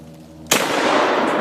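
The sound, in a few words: gunshot fired at a propane tank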